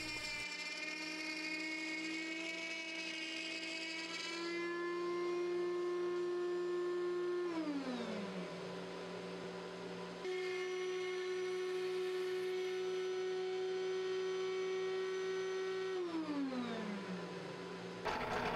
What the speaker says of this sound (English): And then routing them out in three passes.